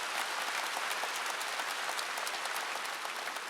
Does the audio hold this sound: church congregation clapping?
yes